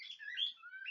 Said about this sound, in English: So my birds are in the background.